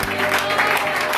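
A church congregation at a Sunday service claps together in a dense, continuous burst of applause, with voices mixed in beneath the clapping.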